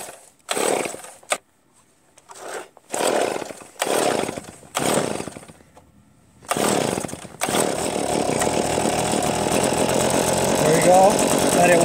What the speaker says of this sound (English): Then I'll put the choke on, and we'll see how many pulls it takes to start.